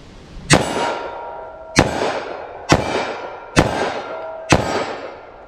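.357 Magnum snub-nose revolver firing Winchester Silvertip rounds outdoors, five sharp loud reports spaced about a second apart, each with a short ringing decay.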